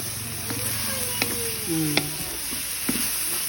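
Bitter gourd (ampalaya) stir-frying in a pan, a constant bright sizzle with occasional scraping knocks and clinks of the utensil against the pan, close and alone without talk.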